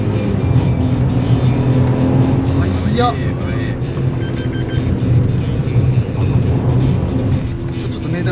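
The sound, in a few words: Suzuki Alto Turbo RS kei car driving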